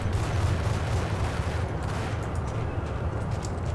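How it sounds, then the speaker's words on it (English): Rapid gunfire in the video game Max Payne, a dense continuous barrage of shots heard loud and close for several seconds with no talking over it. "Spam the button E. Shoot, shoot, shoot."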